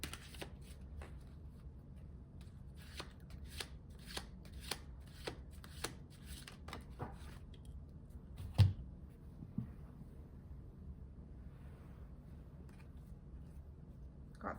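A deck of tarot cards is shuffled in quick repeated riffles, crisp flicks coming in a steady run before tapering off, with one soft thump, close and fairly quiet.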